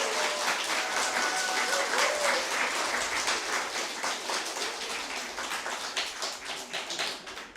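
Church audience applause at a congregational gathering, dense clapping from many hands sustained throughout and slowly thinning toward the end, with a voice coming through faintly.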